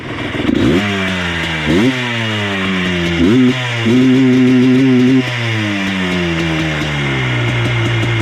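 Small engine on an abandoned ATV with an aftermarket ignition coil, running loud and close, revving up and down repeatedly in uneven throttle blips with a rattly, buzzing tone.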